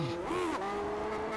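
A Lotus 79 race car engine in iRacing at Watkins Glen revs up, its rising and falling harmonic whine sweeping in pitch over steady close engine noise, with a brief tire-squeal edge.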